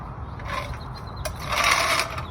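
A jack is released, lowering a 2006–2010 Ford Explorer back onto its wheels during a front CV axle job at home, giving a short mechanical creak and hiss that grows louder as the weight settles.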